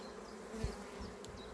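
Honeybees drone steadily in a hive of a queenless colony gone to drone-laying workers in March, a close, continuous low buzz with a brief louder swell partway through and no talk.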